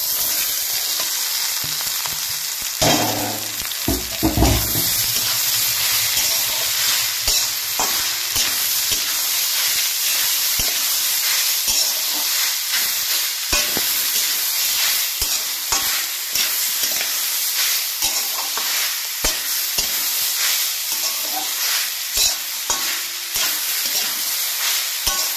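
Sujni saag greens frying with onions in a pan, a steady loud sizzle throughout with stirring scrapes and a brief burst of louder activity early on, no talking.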